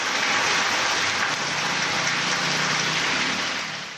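Heavy rain pours down over the Western Ghats hill country, a dense, even hiss that holds loud and unbroken before easing slightly at the end.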